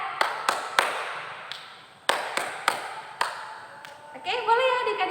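Children at an online Sunday school clap along in a three-then-one pattern: sharp, close claps in short bursts with gaps between them. A voice joins near the end.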